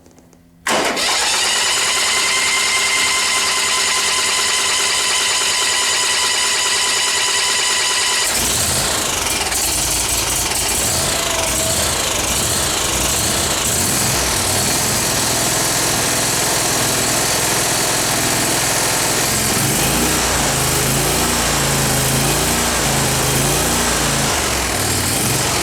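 A small engine starts and idles on full choke, first a steady high-pitched running hum, then a rougher, lower, fluttering idle that continues loud and close.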